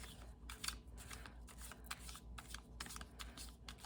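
Playing cards are shuffled close by in quick repeated riffles and snaps, a soft, rhythmic flutter of crisp bursts over a low steady hum, with no speech.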